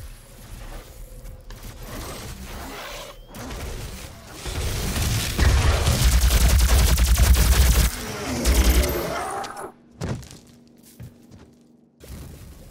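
A weapon in the Doom shooter fires a long, dense, roaring barrage for several seconds, loud and sustained with heavy low-end booms, then cuts off abruptly, leaving quieter game noise behind.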